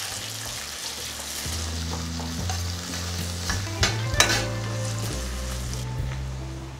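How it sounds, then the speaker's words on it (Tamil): Tomatoes, green chillies and curry leaves sizzle steadily in a pan over a constant low hum, with a few clear stirring scrapes and knocks partway through. "இதெல்லாம் சேர்த்துட்டு ஒரு 2 நிமிஷம் வதக்கி விடணும்."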